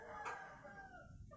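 Rooster crowing once, loud and close, a single drawn-out call among fighting backyard roosters, with no talk over it.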